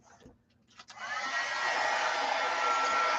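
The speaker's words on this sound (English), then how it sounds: "this is a pretty hot dryer, so I have a feeling this is actually going to press it or, heat set it for me pretty well" A hot hand-held dryer switches on after a click and whirs steadily while heat-setting ink on a Christmas tree banner, a loud, close, continuous blowing roar.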